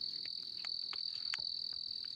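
Crickets chirp outdoors in a continuous, steady high trill with faint scattered clicks and rustles in the background, no talking.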